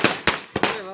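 A home-made Diwali firecracker string bursts in three or four sharp, loud cracks in quick succession, each a close snapping pop, with a ringing tail fading after the last one.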